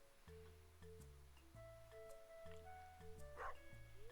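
A pet dog named Dusty barks in a video game, a few short yips over a steady backdrop of tonal game music, moderately loud and close.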